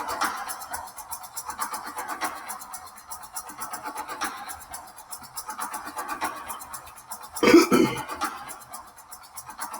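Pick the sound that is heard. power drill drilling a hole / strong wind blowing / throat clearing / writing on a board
throat clearing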